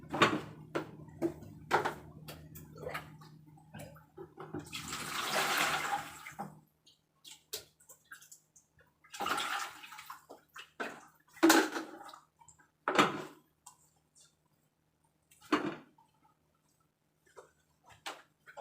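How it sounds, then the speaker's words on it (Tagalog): Water poured into a basin at the bedside for a patient's bed bath, a close splashing pour lasting a couple of seconds amid quieter handling clicks and knocks, with a low steady hum beneath. "I'm going to put water at 45 degree to our basin"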